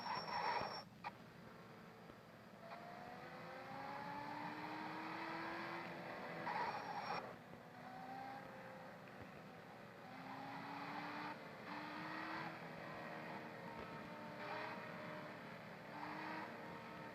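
A Nissan Skyline drives in the Car Parking Multiplayer game, its engine whining upward through repeated gear changes at high speed, a steady, fairly quiet drone with rising revs.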